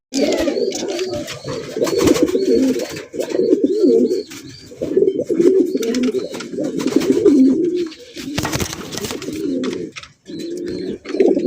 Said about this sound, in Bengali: আফসান বাগা গ্রিজেল কবুতর।